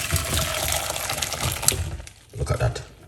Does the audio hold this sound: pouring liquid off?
yes